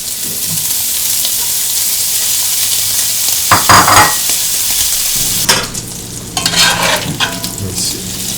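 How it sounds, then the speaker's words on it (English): Bacon sizzles loudly as it fries in avocado oil in a pan on a stove, a steady crackle broken by stirring and scraping, with sharper spattering once the strips go in. "Alright, we're going to put the bacon in."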